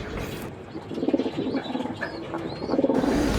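Racing pigeons back from a training flight in Pozzorubio, Pangasinan coo in soft, repeated low calls, close by, with faint chirps in the background.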